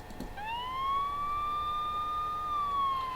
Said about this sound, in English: I almost jump as I see 3 policemen race by on the opposite side of the street, approaching sirens, piercing the air.